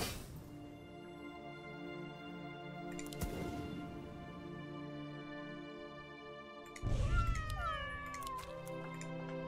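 A cat unit in the strategy game Legion TD 2 meows, a short plaintive call followed later by a louder, drawn-out yowl over layered game music and effects.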